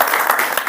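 Crowd applause for a village mukhiya at a public political speech in Bihar, a short dense burst of clapping filling the space.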